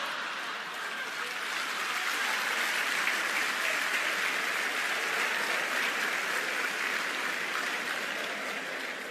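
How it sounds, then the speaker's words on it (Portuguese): Sustained audience applause at a live lecture event fills the room steadily and loudly from start to finish, a dense wash of many hands clapping with no voices rising above it. "Estava difícil de você aplaudir"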